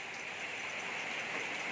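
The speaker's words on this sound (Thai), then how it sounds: "เอ้ยฝนตกนะครับ" Steady rain falls continuously, a soft even hiss of drops with no break, fairly faint and heard alone.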